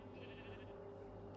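Sheep bleating in the Minecraft video game, a steady wavering bleat that holds through the whole short moment at moderate loudness, with no talking over it.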